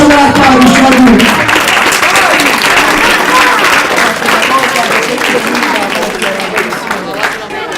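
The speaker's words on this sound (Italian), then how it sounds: "Applauso per Arcadio, Luis!" Football fans watching Inter vs Napoli burst into loud, dense applause and crowd noise, a steady roar lasting throughout, with an excited voice over the opening second.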